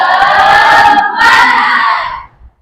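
Classroom children loudly shouting a 'tepuk semangat' chant together, a sustained close group yell lasting about two seconds that fades at the end; the clap rhythm is not clearly distinct.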